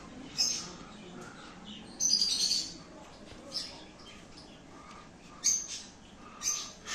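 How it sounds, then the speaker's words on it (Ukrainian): A budgerigar calls in a pet shop in Odesa, giving several short, sharp chirps and squawks spaced a second or so apart over faint indoor shop ambience. "Вона не одна, хвиляста папуга."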